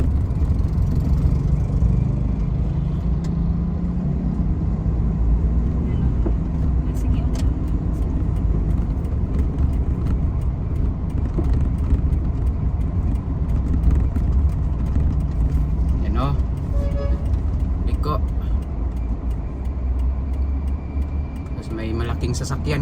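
A Suzuki DA64W minivan drives with its engine running, a steady loud rumble of road and motor noise throughout, with speech heard intermittently over it.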